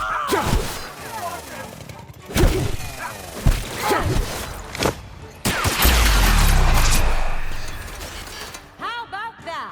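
Gunfire in The Outer Worlds: Spacer's Choice Edition: loud, close bursts of shots mixed with mechanical clanks and impacts, a long rumbling blast near the middle, and voices calling out over the combat.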